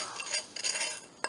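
A utensil stirs brown sugar in a bowl, giving light clinks and scraping taps against the bowl in short bursts.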